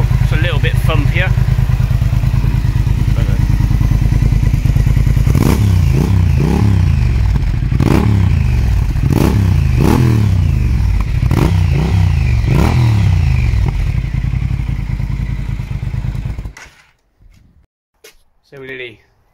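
Triumph Speed Twin motorcycle idling with a TEC X-pipe exhaust, a loud deep thumping rumble with a few sharp throttle blips rising and falling, then the engine shuts off.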